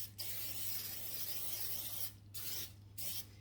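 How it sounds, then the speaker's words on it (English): Aerosol cooking spray hisses onto a cookie sheet in a long steady burst, then two shorter bursts, close and fairly loud with a constant low hum underneath. "My cookie sheet, I forgot to spray it."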